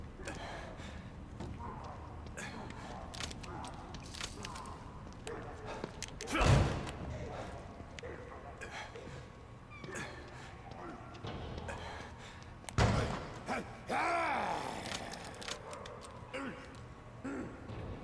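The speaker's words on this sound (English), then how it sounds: "I knew he would break through the door to follow me." In The Evil Within 2, an enemy breaks through a door with two heavy, booming slams several seconds apart, set among quieter rustles, breaths and game ambience.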